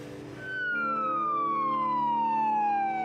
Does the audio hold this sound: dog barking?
no